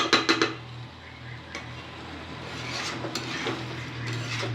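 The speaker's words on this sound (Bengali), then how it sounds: "তো বন্ধুরা ভালো করে এখন মাংসটা কষানো হচ্ছে" Chicken being stir-fried in a pot for biryani, with a few sharp spatula knocks against the metal at the start, then a steady sizzle and occasional soft scrapes, no voices.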